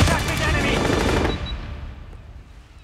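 Rapid automatic gunfire from a mobile shooter game, a dense burst of shots for about a second and a half that then cuts off into fading echo.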